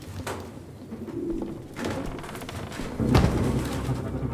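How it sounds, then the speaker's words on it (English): Several birds coo in a steady, overlapping murmur in an indoor area of Detroit: Become Human, the soft calls close by, punctuated by a dull thump near the end, with no speech. "What is all these birds doing here?"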